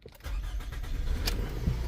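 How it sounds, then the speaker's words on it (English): A car engine cranks briefly with the key turned and catches, then settles into a steady idle, close and fairly loud, with no talking. "engage the brake and start the car"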